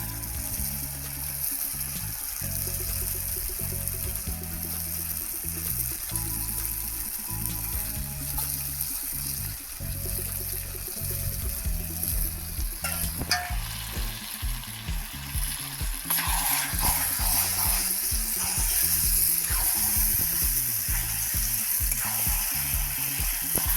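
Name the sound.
chicken meat frying in cooked spice paste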